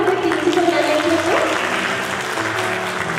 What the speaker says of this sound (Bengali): একটু জোরে হাততালি আমাদের প্রিন্সিপাল ম্যামের জন্য।